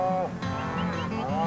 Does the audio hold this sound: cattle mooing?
yes